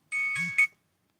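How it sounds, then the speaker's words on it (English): A short electronic alarm chime sounds: a steady tone lasting about half a second, then a brief higher blip, fairly loud and alone. "that's my alarm clock to go live"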